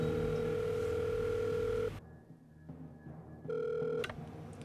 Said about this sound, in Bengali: ফোনটা ধরেন না